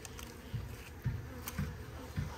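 Honeybees buzz in an opened hive, a steady, fairly faint hum with soft thumps as the frames are handled roughly, and no talking.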